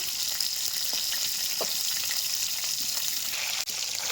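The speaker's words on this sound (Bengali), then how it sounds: "মাছটা ভাজা হয়েছে, একটা উল্টে দেব।" Oil sizzles and crackles steadily as small freshwater fish fry in a pan, close and continuous, with a brief clink near the end.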